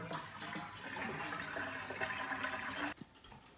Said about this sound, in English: What I do is I just carefully drain most of the water.